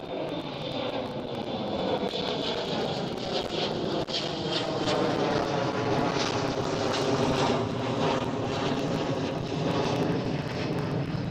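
An airliner roars at Amsterdam Schiphol airport, a loud, continuous engine rumble and whine that holds steady throughout, heard from the field's edge with no voices.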